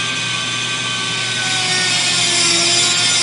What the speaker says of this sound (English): This is a Dremel tool, and I've got a metal cutoff blade.